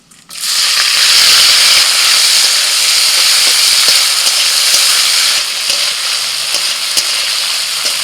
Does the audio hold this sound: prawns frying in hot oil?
yes